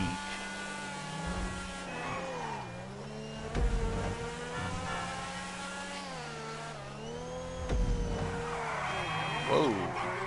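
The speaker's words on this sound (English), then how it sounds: "the engine noises ain't really anything to write home about, but it's your standard kind of supercar, high-end sports car kind of sound" Supercar engine in the video game GTA Online, a steady revving drone whose pitch rises and falls with throttle changes, with occasional heavier surges, heard beneath someone talking.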